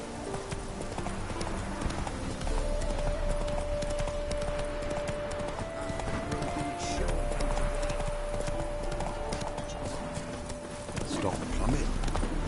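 Roach, the horse in The Witcher 3, galloping with a driving, continuous patter of hooves over a loud game mix with a sustained musical tone, occasional snorts and a voice briefly heard.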